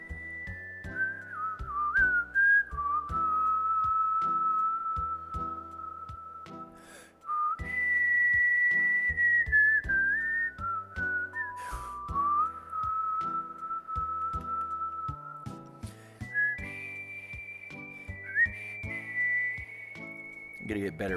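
A person whistles a melody from the Final Fantasy VI soundtrack in clear sustained notes with pitch slides, close to the microphone, over quieter game music with a steady beat.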